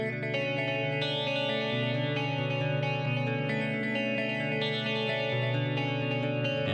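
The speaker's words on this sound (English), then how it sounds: "this is a clean guitar sound. It's just a very simple arpeggio." A clean electric guitar plays a steady arpeggio through Guitar Rig 6, one chord shape over a changing bass note, notes ringing together with a shimmering, echoing dotted-eighth delay effect.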